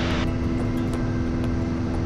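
Engine of a Piper Cherokee 180 STOL airplane in flight, a loud, steady propeller drone heard from inside the cabin without a break.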